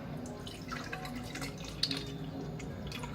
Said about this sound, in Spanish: Lo primero que vamos a hacer es agarrar el vaso y lo vamos a llenar de agua.